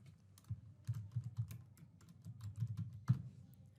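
Keys tap softly on a computer keyboard in a quiet room, a steady run of close, light keystrokes with one slightly harder press near the end.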